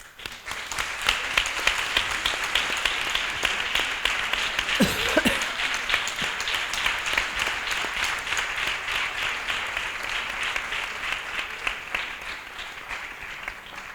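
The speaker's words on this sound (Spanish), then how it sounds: "Pido un aplauso para ellas" A congress audience gives sustained applause for honoured guests, dense steady clapping from a large hall lasting well over ten seconds and slowly tapering, with a brief voice partway through.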